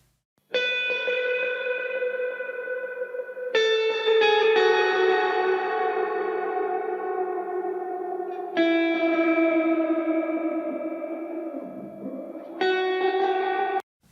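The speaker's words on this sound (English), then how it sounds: "So you're going to hear reverb from the space echo, from the amp, and from the room." Electric guitar chords ring out through a Space Echo effect, amp reverb and room sound, four long sustained strums each decaying into a wide, shimmering echo tail, loud and upfront with no voices.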